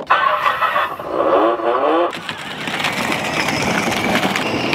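A child's ride-on car starts up at the beach with a rising electric whine, then settles into a steady rough rolling drone with crunching noise underneath.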